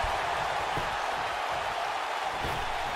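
Dense, steady crowd roar from a WWE wrestling video game arena, loud and continuous throughout with a couple of faint thuds underneath, no talk.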